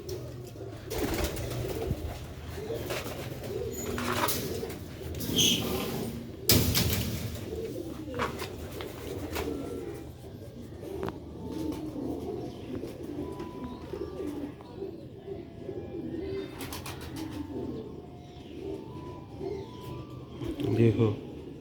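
Sialkoti pigeons coo in soft, repeated rolling calls close by, with someone talking over and between them throughout.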